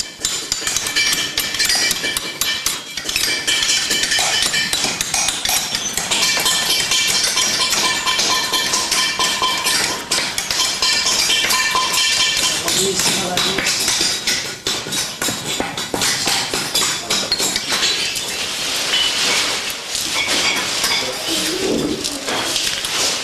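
Zellige craftsmen cutting shapes from glazed Moroccan tile with sharp hammer strikes, a dense, continuous clatter of chipping ceramic in a busy workshop, with birds cooing and a faint voice in the background.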